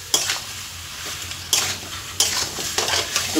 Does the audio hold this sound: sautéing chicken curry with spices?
yes